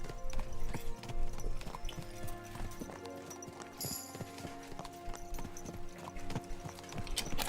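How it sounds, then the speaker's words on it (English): Horses galloping in the video game Kingdom Come: Deliverance II, a rapid rhythmic clip-clop of hooves that stays close and loud, mixed with faint jingling tack and a brief whinny-like cry midway. "Let's really spur these horses on, eh?"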